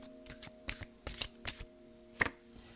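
A deck of cards is shuffled by hand in a quiet room, producing soft papery riffles and taps in an uneven rhythm over a faint steady hum.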